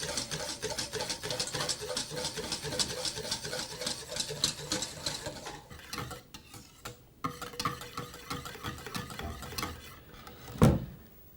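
An ointment emulsion stirred in a bowl, heard as a steady, busy scraping and ticking texture that runs continuously and fairly close, pausing briefly near the end before a louder knock.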